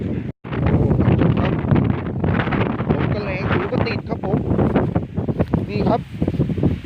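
Strong wind roars steadily against the microphone outdoors during a rat hunt, a loud, continuous buffeting that nearly drowns a voice talking over it.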